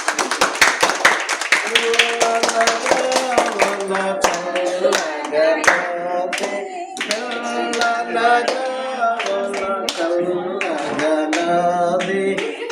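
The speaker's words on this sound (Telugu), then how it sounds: "సందీప్ కట్ చేస్తుండగా అందరూ చప్పట్లు కొట్టండి" A crowd claps in rhythm during a Christian house-opening prayer as Sandeep makes the cut. The clapping is steady and close, mixed with voices singing along.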